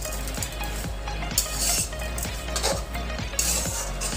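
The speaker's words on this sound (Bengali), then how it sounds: "ভালো করে নেড়ে চেড়ে নেব।" A spoon stirs cabbage and potato curry in a pan, making repeated soft scrapes and light clinks over a steady low hum, close by and at an even, unhurried pace.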